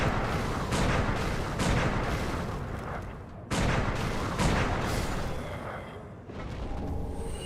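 Gunshots from a gun in the Dark Souls 3 Cinders mod, heard as loud, booming blasts that ring out and decay, with two or three heavy shots spaced a few seconds apart.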